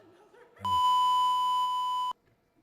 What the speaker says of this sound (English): Couple bleeps along the way.